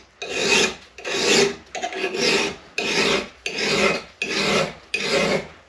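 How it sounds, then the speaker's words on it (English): Steady rasping of a file worked over a chainsaw bar clamped in a vise, six even back-and-forth strokes in a regular rhythm, close and fairly loud with no talking. "You want to file both sides evenly at the same time."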